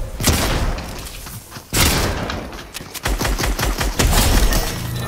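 Bursts of rapid SMG gunfire in a video game, played with grey weapons only; loud rattling volleys with short pauses between them, and no talking.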